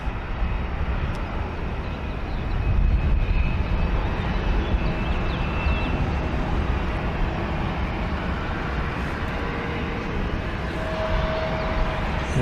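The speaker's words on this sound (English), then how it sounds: "our Sun Country aircraft is on the move" A Sun Country airliner taxiing at Columbus airport at dusk gives a steady, loud low engine rumble with a faint whine, continuous and fairly close, with wind noise and no talk.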